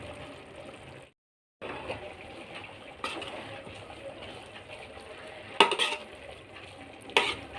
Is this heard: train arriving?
no